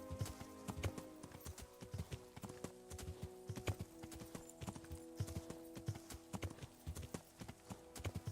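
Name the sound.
horse hooves clip-clopping in video game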